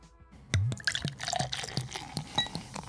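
Beer pours into a glass up close, starting with a sudden splash, then a run of gurgling drips and glassy liquid sloshes in an uneven rhythm, with no talking.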